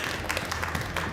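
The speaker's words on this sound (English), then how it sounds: "Yeah, all right, give our friend a round of applause." A live audience at an open stage variety show applauds as a volunteer comes up on stage, producing a steady wash of clapping that runs through the whole moment at moderate loudness.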